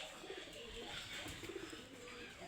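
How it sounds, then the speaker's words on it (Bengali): Domestic pigeons with their chicks coo softly, faint and close in a quiet loft, with low murmuring calls blending into a steady background hiss. "এই যে আমাদের কবুতরগুলি"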